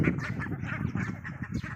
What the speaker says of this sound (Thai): เป็ด